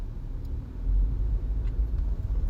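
Car rolling along a rural road, a close, steady low engine and tyre rumble that swells slightly partway through, with no other sounds standing out.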